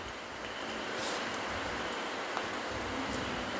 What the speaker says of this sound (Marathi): पाऊस बेकार पडतोय.